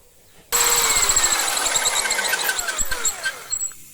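A power drill bores holes into a block of alabaster during stone sculpting, a steady high-pitched whining grind with squealing overtones that starts abruptly and runs loud and close, wavering as the bit bites into the stone.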